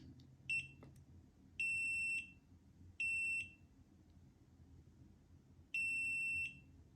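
An NC Miata multi gauge display gives clear, sharp electronic beeps in a row, with short tonal bursts and a rhythmic pattern, loud over quiet cabin background noise.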